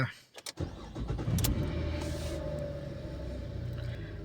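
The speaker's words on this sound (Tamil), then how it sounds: "நல்லபடியாக வண்டி ஸ்டார்ட் பண்ணுவோம்" A car engine cranks with a few sharp clicks, catches, then settles into a steady close-up idle that runs uninterrupted for several seconds.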